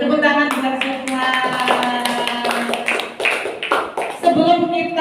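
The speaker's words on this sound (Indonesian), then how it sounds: "Tepuk tangan buat semua." A primary school class of young pupils applauds, a busy run of overlapping hand claps mixed with children's voices, close and fairly loud.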